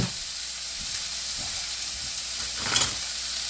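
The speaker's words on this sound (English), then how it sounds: "Hear that sizzle?" Food sizzles steadily in a hot pan, a continuous bright hiss with faint clinks and stirring, and a brief louder flare of spitting near the end.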